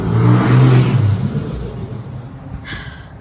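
A truck engine revs hard on a small-town street in Auburndale, Florida, a loud, close roar that peaks within the first second and then fades to a lower rumble.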